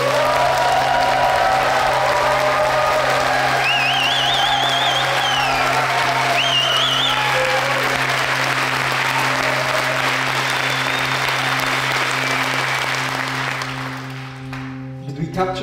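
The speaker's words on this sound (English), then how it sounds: "you want to practice a huge round of applause" A large audience bursts into a loud, sustained round of applause with whoops and cheering voices on top, continuous dense clapping that fades out near the end.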